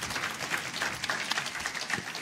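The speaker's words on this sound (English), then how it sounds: "No applause till I'm done." Scattered audience clapping at a forum on high drug pricing, soft and somewhat distant, with individual claps popping out of a light, uneven patter for about two seconds.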